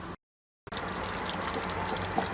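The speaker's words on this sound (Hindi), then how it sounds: "अब हम इसके अंदर थोड़ा सा पानी ऐड कर देंगे" Water poured into a pan of cooking egg chana (Lahori-style chickpeas with eggs), a steady close gushing stream after a brief silent gap, with no talk.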